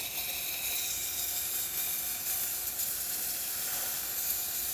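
The steam wand of a Breville Dual Boiler espresso machine hisses steadily and close by, a continuous bright spray of steam with no talking.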